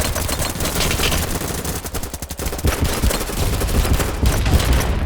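Rapid gunfire from BattleBit Remastered rattles nonstop in dense automatic bursts, loud and close, with overlapping shots forming a continuous fusillade throughout.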